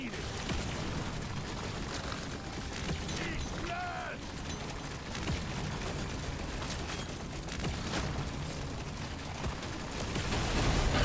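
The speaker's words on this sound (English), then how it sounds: "Big explosions." Explosions and weapon fire in the game Deep Rock Galactic Survivor, a dense continuous barrage of blasts and mechanical clatter, loud throughout and swelling at the end, with no clear gaps.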